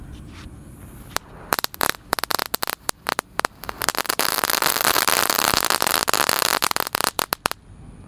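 A pack of Telur Dino Pretek firecrackers goes off at night in a rapid crackling string of sharp pops, sparse at first, then dense and loud, thinning again toward the end.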